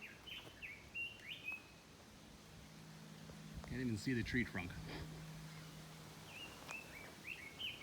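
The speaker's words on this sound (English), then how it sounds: "Birds chirping." Birds chirping in a forest valley on a day hike, scattered faint tweets and short calls at a distance over steady outdoor hiss, with someone speaking briefly in the middle.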